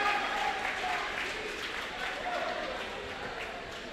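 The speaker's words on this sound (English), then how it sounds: "Got a nice little applause here from the fans." Basketball fans in a gym applaud after the court is mopped, a faint, distant, steady patter of clapping under a low crowd murmur.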